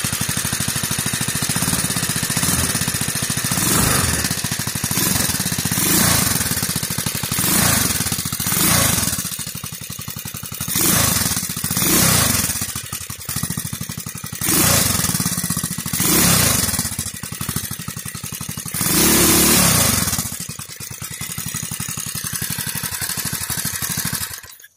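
Push mower engine with a stock aluminum flywheel running loud and close, a rough rapid thrum that surges and dips in repeated waves for the whole stretch.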